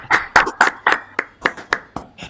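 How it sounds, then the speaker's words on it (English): A few people clapping over a Zoom call, about ten sparse, uneven claps close to the microphone, thin and half-hearted rather than a full round of applause. "that was kind of a half-hearted round of applause"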